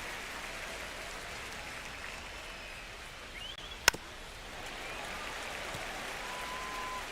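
Steady crowd murmur and cheering in a baseball stadium in MLB The Show 25, Yankees versus Twins, a broad even wash throughout with one sharp crack near the middle.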